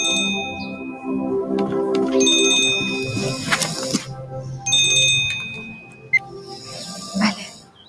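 Telephone ringing in a comedy film scene, with repeated electronic ring bursts separated by short pauses and faint voices in between.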